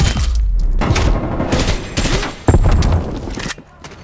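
Strafe run gunfire in Black Ops Cold War on the Slums map, heard as dense overlapping bursts of automatic fire and booms that cut in and out over about four seconds, with in-game voice chatter mixed in.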